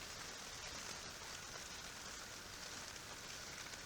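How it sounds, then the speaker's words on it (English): Rain falling outside on a day spent sowing marigold seeds, a faint, even hiss of steady drizzle with no breaks and no voices over it. "It's actually raining outside today."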